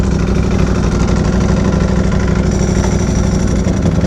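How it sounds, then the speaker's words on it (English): A 2022 Ducati Panigale V4S motorcycle engine idles nearby, a steady loud low rumble with an uneven, lumpy pulse throughout and no voices. "He's doing the weird idling thing"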